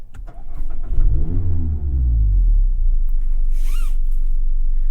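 2020 Mazda Miata engine cranking and catching, rising into a quick rev before settling into a steady close idle, followed by a brief mechanical whir near the end.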